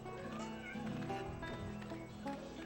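A cat meows in the farm video game Barnyard, faint and brief, buried in a dense bed of game music and ambience.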